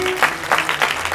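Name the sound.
audience clapping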